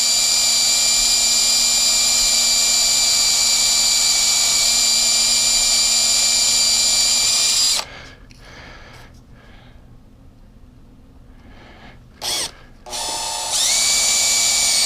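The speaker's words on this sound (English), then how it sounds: "We're literally just drilling through the rivet" A power drill whines steadily and loudly up close, drilling through a rivet on a Honda XR80 petcock, then stops, leaving quiet clatter before briefly spinning up again at the end.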